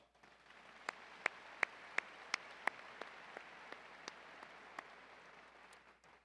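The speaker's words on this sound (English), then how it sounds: "Ladies and gentlemen, please give them a round of applause." Audience applause at a university commencement ceremony: a distant, soft, steady wash of clapping from a large crowd, with about a dozen sharper, evenly spaced claps standing out above it.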